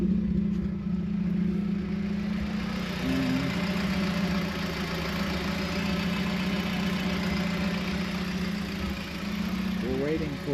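A 1968 Opel Rekord C engine idles while running hot, a steady close rumbling hum that holds for the whole stretch with a small pitch wobble near the end.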